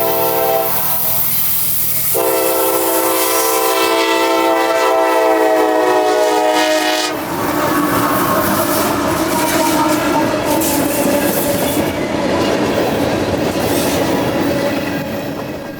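A train passing close by the track in Bartow, Florida, at evening, with a loud sustained multi-tone horn blast, then a steady roar of wheels and rumbling cars rolling past with clickety-clack, no talk.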